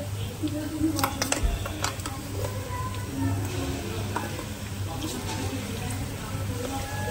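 Ginger-garlic paste spluttering in a hot oil tempering for a Malvani mackerel curry, a steady sizzle with a few sharp pops and scrapes over a low constant hum, with faint talk in the background.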